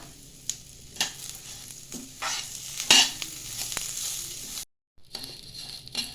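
Curry leaves sizzle and crackle in a hot pan while being stirred as spices are roasted for homemade sambar powder, with steady frying hiss and a few sharper pops before a brief silence.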